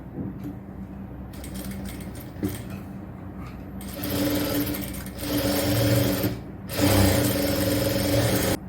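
Sewing machine stitching a frill for a nighty in a tailoring class, running in short whirring bursts that grow longer and louder, with quiet pauses between them.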